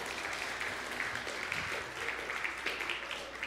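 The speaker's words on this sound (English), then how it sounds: "give them a round of applause" An audience applauds after a Christmas pageant at a church service, a steady wash of many hands clapping at moderate volume for the whole stretch, with no distinct voices over it.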